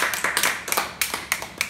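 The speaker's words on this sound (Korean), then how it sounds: "하나님께 영광의 박수 한번 드리고 이럽시다." A small group of people claps briefly in a church setting, a few close, uneven hand claps rather than a full round of applause.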